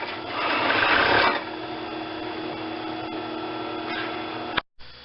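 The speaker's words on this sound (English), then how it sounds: "you can do these seams with a straight stitch machine or with a" A straight-stitch sewing machine or serger runs along fabric seams: a brief loud rasping burst, then a steady mechanical hum that cuts off abruptly near the end.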